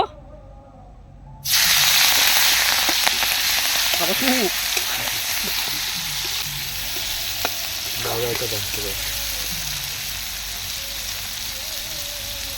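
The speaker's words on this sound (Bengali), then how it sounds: "তো তেল গরম হয়ে গেছে, এখন চিংড়ি মাছগুলো ভেজে নেব" Prawns hit hot oil with a sudden loud burst of sizzling that continues as a dense, steady crackle, punctuated by occasional spatula scrapes and brief sounds of human activity, close up.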